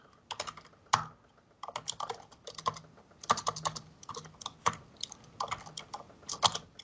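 Keys clatter on a computer keyboard during coding in Visual Studio Code, quick bursts of close, crisp taps separated by short pauses, with a few sharper key strikes.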